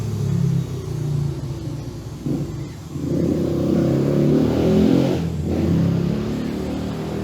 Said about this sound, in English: Quiet meditative sounds of a construction work and motorcycles.